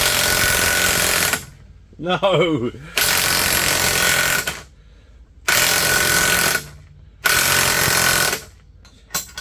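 A power drill with a nearly flat battery runs in several short loud bursts separated by pauses during a front wheel bearing replacement on a VW Polo, with a brief spoken word between bursts.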